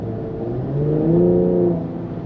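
A 2020 Cadillac CT5-V's engine revs up under acceleration, a loud, steady rising drone heard from nearby with no speech; distinct pops are not clearly picked out.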